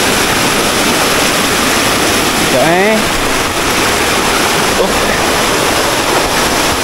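Dara waterfall in Senawang, Malaysia, pours in a steady, loud broadband rush with no break, and a brief bird chirp cuts through it partway along.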